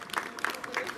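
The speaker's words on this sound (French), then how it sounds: "On peut l'applaudir encore bien fort s'il vous plaît." Brief burst of clapping and crowd noise from an audience at an African festival in Liège after a martial arts demonstration, dense and fairly close.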